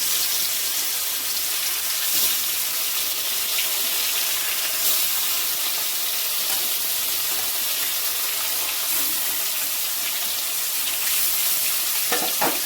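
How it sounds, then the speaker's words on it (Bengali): Silver carp pieces, coated in salt and turmeric, frying in hot oil in a wok with a dense, continuous close sizzle and faint scraping, steady throughout with no talking. "কড়াইয়ে দিয়েছি তেল। মাছগুলো দিয়ে দেবো।"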